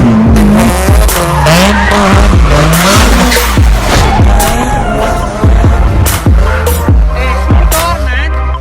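A car drifts with tires squealing loudly and continuously, the whine of the high-revving engine rising and falling close by, with repeated sharp screeches and no talk.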